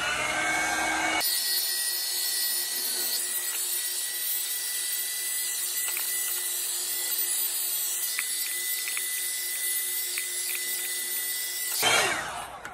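A hair dryer on its low setting switches on and blows with a steady, close whooshing whir for about ten seconds before cutting off.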